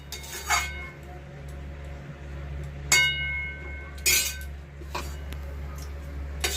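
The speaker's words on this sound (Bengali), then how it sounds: "আমি ঢাকনা খুলে দেখে নেব কষা হয়ে গেছে।" A metal lid on a cooking pot of dried fish curry clinks and scrapes a few times, bright ringing knocks over a low steady hum in a home kitchen.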